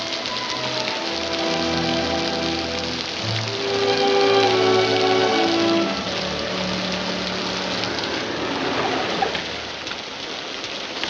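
Steady rain falls in a 1940 western drama, a dense continuous wash heard under low sustained music, holding constant throughout the scene.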